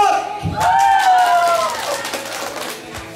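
Crowd at a Vietnamese party game claps and cheers loudly to vote for a contestant, a burst of hands and shouting voices swelling early then tapering off.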